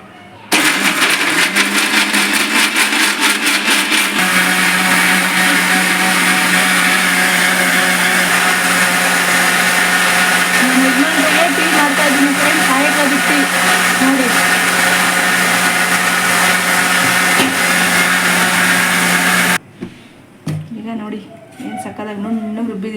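Mixer grinder churning coconut chutney with water, a loud steady whir lasting about twenty seconds, then stopping abruptly and leaving quieter room sound.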